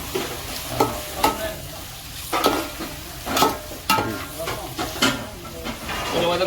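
Ginger, garlic and tomato sauté in a hot pan for a chicken gravy, with a soft steady sizzle broken by repeated scraping stirs of a spoon at an irregular rhythm, close and moderately loud.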